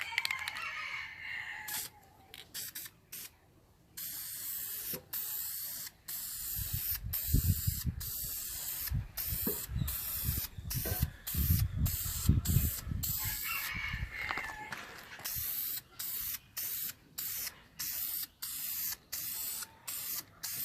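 Spray paint hissing in repeated bursts as a second coat goes onto a Ford SVT Lightning supercharger, loud and close, with short pauses and light mechanical clicks between passes.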